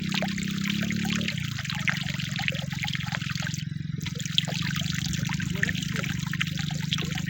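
Dirty water flows steadily through an irrigation channel in a farm field, a continuous close gurgling trickle with no talk over it.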